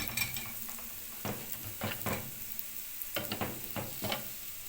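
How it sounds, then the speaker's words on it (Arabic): Rice fries in a pan with a steady soft sizzle while a utensil stirs it, scraping and tapping against the pan in irregular clusters nearby. "هنقلب الرز بقى لغايه ما يخرفش معانا"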